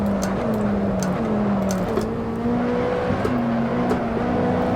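A race car engine in Assetto Corsa drones loud and steady on track, shifting pitch through gear changes, with no voices.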